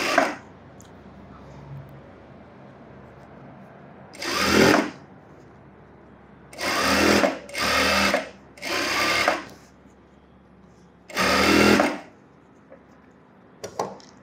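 A sewing machine stitches the lining of a child's umbrella frock in five separate loud bursts of a few seconds each, with quiet gaps between them and no voices.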